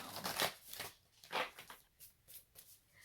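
A deck of self-care cards is shuffled by hand vertically, giving soft, close riffling bursts in an uneven rhythm with quiet gaps between.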